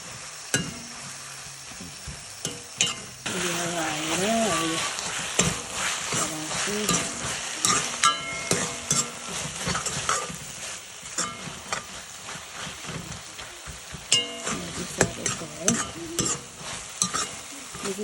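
Saag greens frying in a pan with salt, chili and tomato, a steady loud sizzle under repeated spatula scrapes and stirring strokes throughout, close by with no voices.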